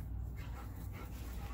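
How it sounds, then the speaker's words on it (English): Dogs scuffle close by, with short yips and whimpers over a steady background rumble, sounding like a brief bout of rough play. "They're wrestling and playing."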